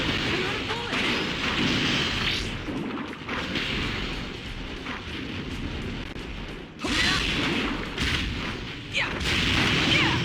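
Gunfire and blasts from the action game God Eater Burst 2, dense and continuous with repeated bursts and booms, a voice talking over the combat throughout.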